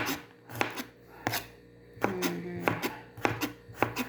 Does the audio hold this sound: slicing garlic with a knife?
yes